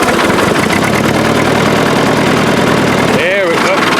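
Old Ford 8N tractor engine turning over and running, loud and close with a dense, steady mechanical drone; a brief voice-like tone rises over it near the end.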